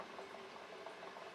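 Quiet, continuous bubbling and gurgling from thumper jars wrapped in a towel during a sweet corn distillation, a soft steady simmer with no voices.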